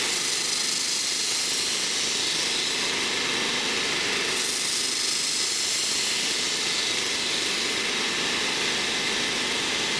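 Belt grinder running with a grit belt against the edge of a seax blade in a workshop, a continuous loud abrasive hiss and whir that dips slightly around the middle, with no talk over it.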